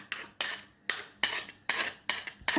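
A spoon scrapes and clinks around a bowl mixing sesame chutney with cooled oil, in a steady rhythm of about six close, bright strokes with no talking.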